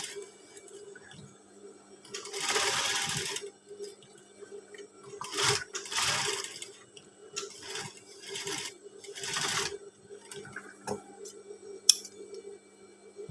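Sewing machine stitching a white school uniform shirt, running in several short bursts of whirring with pauses between them, close by and fairly quiet, with no talk.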